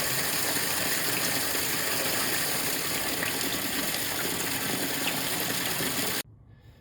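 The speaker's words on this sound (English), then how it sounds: "It will add cooler water to the tub." Cooler water gushes steadily into a spa tub, a constant rushing flow mixed with a pump-like hum that runs loudly and evenly, then cuts off abruptly near the end, leaving quiet.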